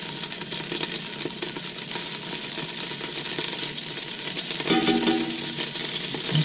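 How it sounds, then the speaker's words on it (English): Bacon drippings sizzle and crackle with collard greens in a pan, a loud, steady close frying hiss with faint stirring clatter, continuing unbroken without any talk. "this is a bacon dripping, and I'm going to put in 3 tablespoons"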